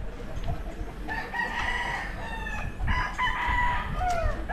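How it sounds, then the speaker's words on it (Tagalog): Chickens and roosters in a rural barangay in Labo, Camarines Norte, Philippines, with several crows and clucks rising over steady outdoor background noise, fairly close by. "Mga manok."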